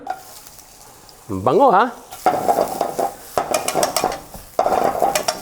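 Onion hits hot sesame oil in a pan with a loud sizzle, followed by bursts of stirring and scraping as the pieces fry close up, while a voice briefly exclaims in a rising, sing-song tone.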